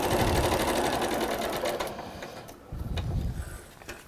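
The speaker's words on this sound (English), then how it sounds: "And then you just stitch down that little line between number 9 and number 10" Sewing machine stitching a short seam line across fabric, a fast steady mechanical whir with rattling needle action that runs loud and close, slows and pauses briefly, then restarts for a short second burst.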